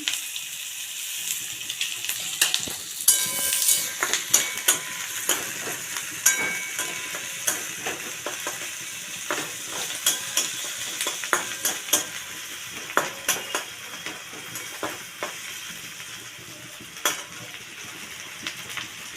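Ginger paste stirred and sizzling in a frying pan for a shrimp dish with ridge gourd and potato, with steady frying crackle and frequent sharp clinks of a spoon against the pan, close and alone.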